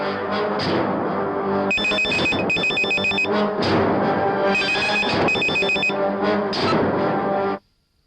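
A telephone rings in two bursts of repeated electronic trills, moderately loud over a continuous dramatic musical score in a Telugu horror thriller film, with no voices.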